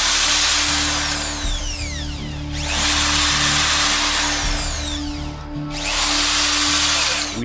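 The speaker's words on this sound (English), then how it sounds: "agreed to take an angle grinder to the computer while the intelligence agents watched" An angle grinder cuts into a computer in bursts, its high whine rising and falling over about three long passes with a steady hum beneath, loud and close, with no voices.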